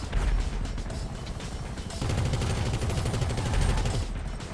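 Sustained rapid machine gun fire from a video game vehicle rattles on continuously for several seconds, loud and dense, with a brief shift in intensity midway.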